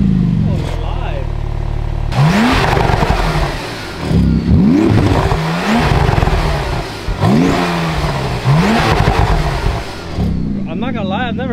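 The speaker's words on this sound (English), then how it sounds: "I've never heard your car pop like that." Porsche GT3 RS or GT2 RS sports car revving hard in repeated bursts, with rising engine sweeps and sharp exhaust pops and crackles between them, loud and close, with people talking around it.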